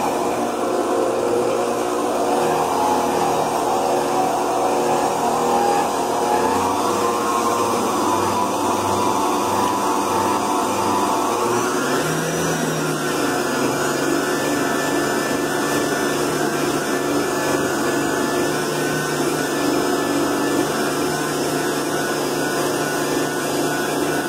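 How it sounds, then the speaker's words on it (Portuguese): An electric mixer beats a thick, stiff Leite Ninho powdered-milk mousse filling with whipped cream, a loud steady motor whir throughout that rises in pitch as the speed is increased. "Agora eu volto a bater essa mistura aqui."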